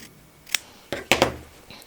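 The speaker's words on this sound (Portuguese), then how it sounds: "Deixa eu cortar essa auréolazinha aqui." Scissors snipping fabric for a sewn plate holder, a handful of short crisp cuts close by, the last few coming in a quick cluster, with no talking.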